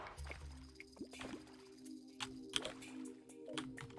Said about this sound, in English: Why are you sending water down here?